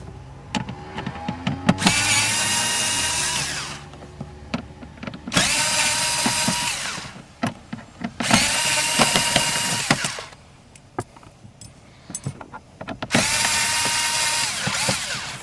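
Power screwdriver backing out Phillips head screws from the glove box of a 1995-2003 Nissan Maxima: four loud whirring bursts of several seconds each, separated by quieter clicks and handling noises.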